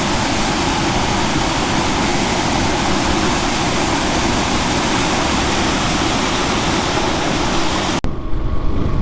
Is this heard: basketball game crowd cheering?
no